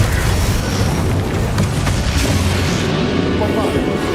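Loud, dense blasts from the Bombarda explosion spell in the video game Hogwarts Legacy, a continuous roar of booming impacts filling the scene with rumbling low end throughout.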